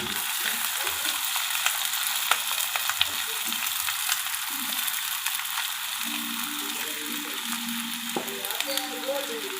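Sabudana khichdi with boiled potato sautéing in a pan, a steady broadband sizzle and frying hiss running throughout with scraping stir sounds, close and continuous, no talking.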